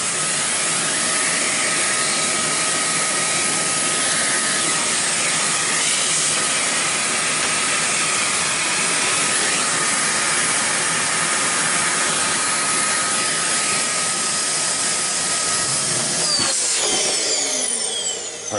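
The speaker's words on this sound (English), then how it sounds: "I'm just gonna grab the Hoover. Right, it's gonna be noisy" A Hoover vacuum cleaner running continuously with a loud, steady, airy hiss and whine close by, its pitch shifting slightly near the end.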